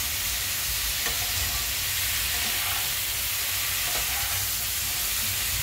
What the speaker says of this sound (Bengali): এবারে মশলার সঙ্গে এগুলোকে আমি ভালো করে কষিয়ে নিচ্ছি।